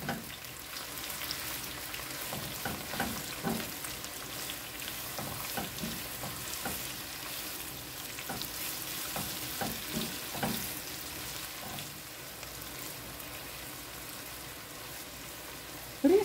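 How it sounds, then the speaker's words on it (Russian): Onions fry in a pan for plov, a steady soft sizzle with scattered crackles and stirring scrapes, close and alone without talk. "Лук тоже обжарим"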